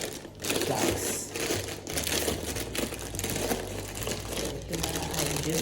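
Paper crinkling and rustling continuously at close range as it is packed into a birthday gift box, with dense crackling bursts and no speech.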